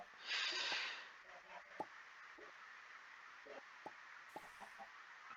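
A chicken clucks in the Minecraft modpack Ragnamod VII, several short, quiet clucks and snorts scattered over a low background hiss, with a brief burst of noise at the start.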